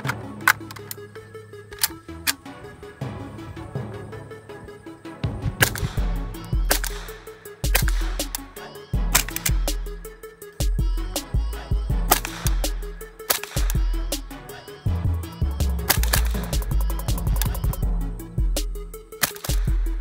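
A .22 LR conversion kit in an AK-47 fires at the range, a series of sharp, snappy cracks at uneven intervals over a steady bed of background music.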